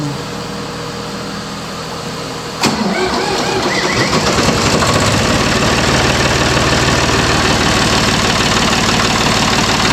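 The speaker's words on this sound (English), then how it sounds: "I love my old tractor." An old 1983 tractor engine cranks and catches with a sharp start, then settles into a loud, steady, rough-running rumble close by.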